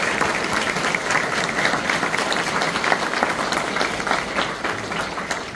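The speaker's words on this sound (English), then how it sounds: "Let's clap for them." An audience at a fifth grade elementary school graduation applauds loudly and steadily, a dense wash of clapping that carries on without a break.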